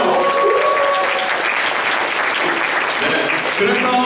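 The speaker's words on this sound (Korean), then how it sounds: "박수 한번 주세요." A church congregation at a Sunday youth service claps together in steady, dense applause that fills the whole moment, close and loud with no break.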